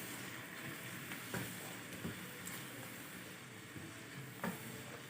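Fried onion crumbs being stirred into chicken and potato curry in a pan, a steady sizzle under soft scraping with a few sharper spoon knocks; no talk.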